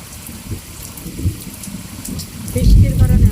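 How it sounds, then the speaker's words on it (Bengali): Heavy rain pours down after falling all night, a dense, constant wash of drops over a low rumble that swells louder toward the end. "এই যে রাত্রে থেকে যে বৃষ্টি শুরু হয়েছে শেষ হয় না ওই যে বৃষ্টি পড়তে আছে"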